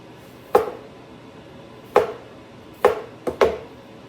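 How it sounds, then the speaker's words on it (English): Knife chopping bell peppers on a cutting board: four sharp, close thuds of the blade striking the board at uneven intervals, with quiet between them and no talking. "So when I'm chopping up a bell pepper,"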